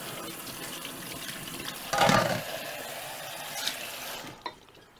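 Tap water runs briefly over Chinese tea eggs being rinsed at a kitchen sink, a soft trickle with one louder splashing surge in the middle and a final small clatter before it cuts off.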